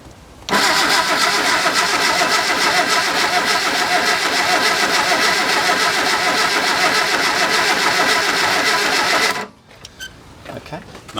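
A fully rebuilt classic car engine cranks on its first start attempt. The rhythmic starter churn runs loud and unbroken for about nine seconds without catching, then cuts off abruptly.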